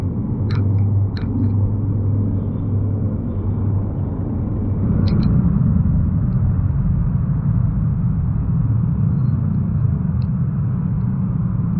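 A motorcycle crawls through a heavy traffic jam on the Pantura road in Java, with a steady low engine and traffic rumble throughout and a few faint higher tones poking through.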